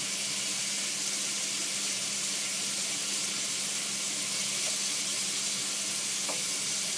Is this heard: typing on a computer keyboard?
no